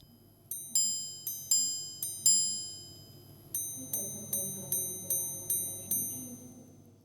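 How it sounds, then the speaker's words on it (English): Chime mechanism of a BVLGARI watch striking clear, bright metallic notes, first four single tones spaced apart, then a quicker run of six evenly paced chimes, each ringing and decaying, close and alone. "you're going to have lots of fun listening to the chime mechanism"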